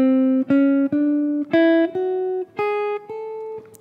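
Jazz guitar plays a slow rising line of single notes, a chromatic passing tone landing on the scale's third an octave higher, eight clear plucked notes evenly spaced and alone.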